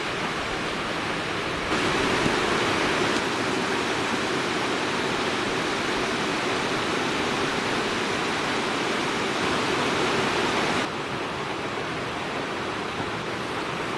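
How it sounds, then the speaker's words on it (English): Rapids of the Menominee River rushing through Piers Gorge, a steady, dense roar of churning whitewater that stays loud and unbroken throughout, with no voices. "Menominee River."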